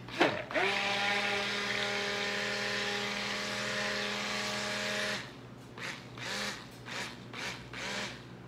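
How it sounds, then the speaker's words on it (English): A blender whirs at high speed blending pumpkin pie soap, with a loud, steady motor whine for about five seconds, then stops, followed by intermittent clattering bursts. "I'm going to blend on the high one"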